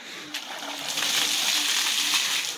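Water drawn from a village well sloshes and splashes in a continuous gushing pour, close and moderately loud, with a brief knock near the start.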